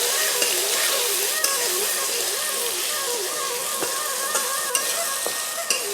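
Potato and carrot pieces, lightly salted, sizzle together in oil used for frying katla fish heads: an even, continuous crackling fry, near and fairly loud, with occasional soft stirring taps and faint melodic tones underneath.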